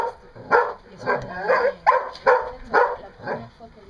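A dog at a herding session barks in a quick series of about seven sharp, close barks with yipping edges, steady and loud.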